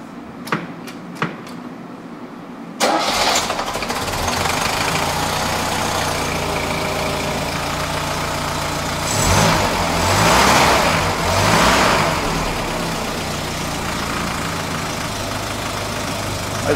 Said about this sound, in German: da haben wir die Batterie angeklemmt, ist der Motor, geht allein